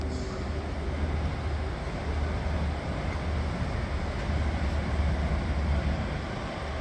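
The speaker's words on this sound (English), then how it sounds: "this 156 is now leaving for Middlesbrough." A Class 156 diesel unit pulls out of Newcastle station bound for Middlesbrough, a low steady engine rumble with faint rail noise, moderately distant and continuous, no voices.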